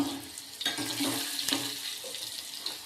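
Cumin, mustard seeds and turmeric sautéing in a pan make a steady, moderately loud broadband sizzle with a few sharper crackles and spits, and no one speaks over it.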